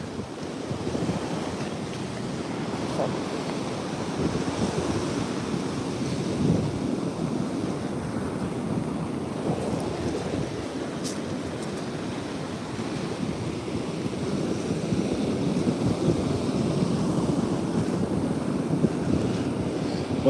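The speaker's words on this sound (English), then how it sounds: "Well, those waves are kicking." Ocean waves breaking on a shore in strong wind make a continuous loud roar of surf, with heavy wind buffeting the microphone throughout and no voices.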